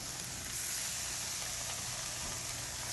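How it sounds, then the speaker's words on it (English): Steady, close sizzling hiss of fish skin frying in a hot pan, continuous and even throughout. "Here's sizzle."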